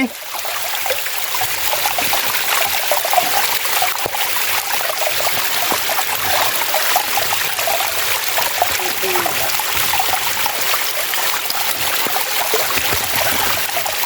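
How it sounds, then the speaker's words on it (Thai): Sap Sa Kaeo waterfall at Ban Khao Phluang in Bueng Samphan district rushes with a steady, loud, broadband roar of falling water that holds unbroken from start to finish, with no talking. "น้ำตกซับซาแก้วนะครับ"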